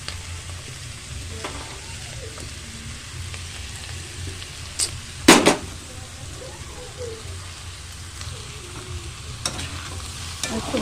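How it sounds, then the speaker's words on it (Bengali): Paneer and vegetables stirred in a pan over a soft continuous sizzle, with a few sharp scrapes and clatters standing out, one louder knock near the middle. "একটু ভালো করে নাড়িয়ে নেব"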